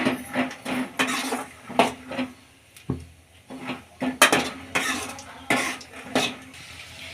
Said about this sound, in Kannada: ಮೊದಲಿಗೆ ಕಡಲೆಕಾಯಿ ಬೀಜನ ಹುರ್ಕೊಳ್ಳೋಣ ಎಣ್ಣೆಯಲ್ಲಿ